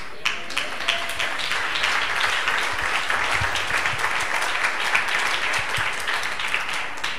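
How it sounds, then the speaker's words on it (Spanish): Congregation applause during a Spanish-language church sermon in Guatemala, many hands clapping in a dense, continuous roar of sharp claps that holds steady for several seconds with no one speaking over it. "Damos un aplauso a Cristo."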